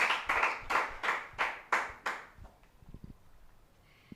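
A handful of people clap in a slow, loud, rhythmic series of about seven distinct claps, then the clapping stops and a quiet room murmur remains.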